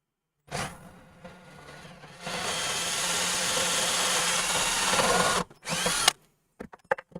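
A power tool driving a bolt into a DIY speaker cabinet built for a Celestion F12 X200 driver, a loud close whirring buzz that steps up in pitch and holds for several seconds, then cuts out, followed by a few clicks and knocks.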